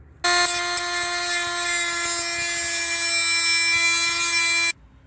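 Rotary power tool trimming the ends of screws during a rear speaker replacement on a 2013 Hyundai Elantra, a loud high-pitched whine starting abruptly and running steadily for about four seconds before cutting off, with faint knocks underneath.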